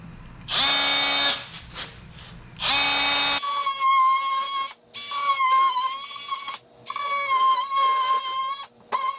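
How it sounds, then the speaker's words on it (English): Dull-bladed oscillating saw cutting a can-light opening, running in several loud buzzing bursts separated by brief pauses, with a steady high whine during each cut. "I got an extremely dull blade on this oscillating saw"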